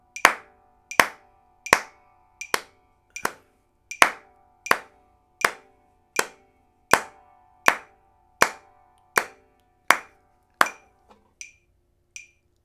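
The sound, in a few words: hands clapping along to the beat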